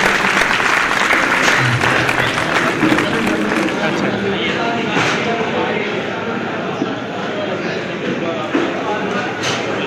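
Loud, dense applause fills the hall throughout at a mushaira held for an Independence Day celebration in Khatauli, Muzaffarnagar, Uttar Pradesh, with the crowd clapping steadily.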